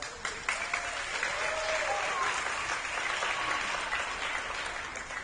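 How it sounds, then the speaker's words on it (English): A crowd of parents and students applauds at a primary school sports awards night, with even, sustained clapping that sounds somewhat distant and fills the whole stretch. "So big round of applause."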